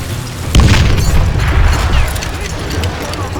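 Gunfire in the Western shooter video game Call of Juarez: Gunslinger, a single loud booming blast followed by a sustained rumbling tail and scattered background game noise.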